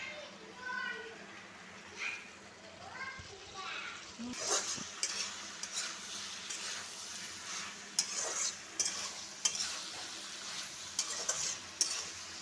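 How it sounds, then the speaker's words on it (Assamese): Potatoes stirred and fried in a pan while making an Assamese mutton curry: a steady sizzle with scraping stirs and occasional sharp clinks of a utensil against the pot, up close. "আলুটো দিলে আলুটো ভাজিও দিব পাৰে"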